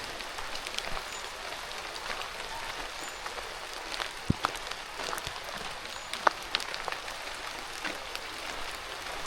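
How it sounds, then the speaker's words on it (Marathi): Rain falls steadily in a village in big drops, a dense close hiss with scattered sharp, louder drop hits on nearby surfaces. "आता मोठी टिपा पडू लागल्यात."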